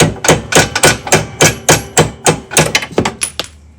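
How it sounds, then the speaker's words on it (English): Loud, evenly spaced hammer blows, about a dozen sharp strikes in quick succession, close by and alone, during headlight work on a C3 Corvette. "Just need a hammer or something."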